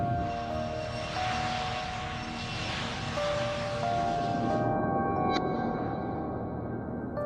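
A British Airways airliner takes off from Birmingham, England, its jet engines producing a loud, sustained broadband roar with steady tonal whines that holds for about five seconds before the upper hiss drops away, leaving a lower rumble.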